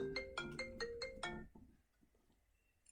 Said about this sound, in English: Sorry guys, my phone was ringing.